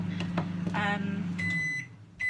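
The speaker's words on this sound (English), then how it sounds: "So it's had its first blast in the microwave" A microwave oven heating chocolate for ganache hums steadily at close range, then gives a few sharp electronic beeps as it finishes.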